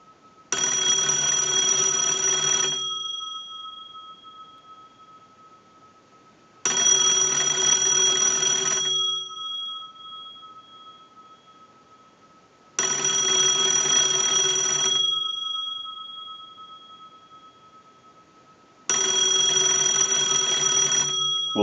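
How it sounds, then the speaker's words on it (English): Bells of an old Stromberg Carlson wooden wall telephone ring in four evenly spaced bursts of about two seconds each, bright and metallic, with silent gaps between, close and alone. "use the analyzer and send a ring cycle like you were getting a call"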